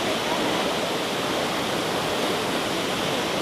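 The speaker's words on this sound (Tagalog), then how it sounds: "Ayun yung falls." A waterfall at Monasterio de Piedra roars as a loud, continuous broadband rush of falling water with no breaks, heard up close.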